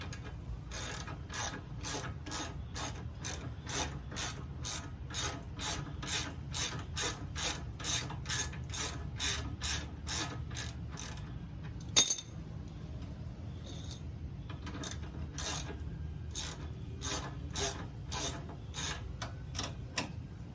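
Ratchet clicking steadily as a ball joint bolt is worked loose on a G35 coupe, a fast, even run of close metallic pawl clicks with one brief sharp knock midway and a short pause before the clicking resumes.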